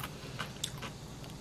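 Seasoned radish and seaweed stem salad is chewed in a few soft, crisp bites, faint and close, with quiet crunches spaced across a brief moment.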